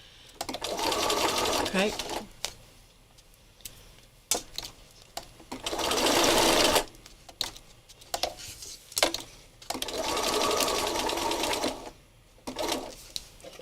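Domestic sewing machine stitching in three long bursts, running forward and reversing, with short pauses and clicks between runs; a person speaks briefly in the gaps.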